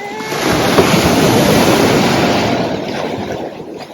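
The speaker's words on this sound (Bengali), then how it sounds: "এখানে এই ঢেউগুলো খুব ভালো লাগে" Sea waves on Shankarpur beach swell into a loud, broad wash of surf that rises, holds and slowly fades, with wind rushing over the microphone.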